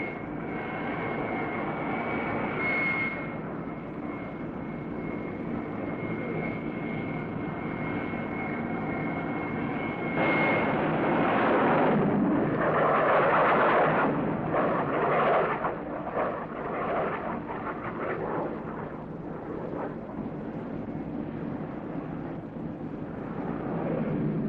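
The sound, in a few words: aircraft carrier catapult launching plane with engines thrusting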